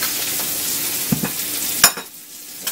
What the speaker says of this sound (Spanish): Esto se revuelve